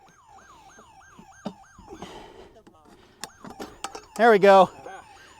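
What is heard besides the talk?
safe prying alarm going off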